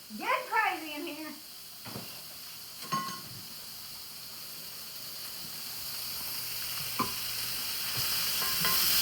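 Chicken and zucchini fry in a skillet with a soft, steady sizzle that builds toward the end, broken by a few scraping stirs; a voice speaks briefly near the start.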